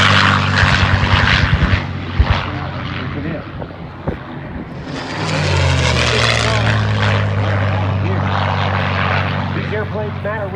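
A P-47 fighter's propeller engine roars and rises as it accelerates for takeoff at an airshow, a loud droning tone climbing in pitch, with a voice talking over the start.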